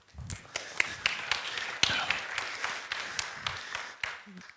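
Scattered audience clapping at a Swedish internet conference, Internetdagarna 2015, welcoming a speaker; brief, uneven claps with sharp individual hits, fairly faint, and a little speech mixed in.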